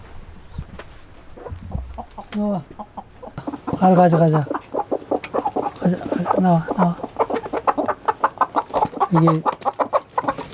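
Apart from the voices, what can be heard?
chickens clucking in a chicken coop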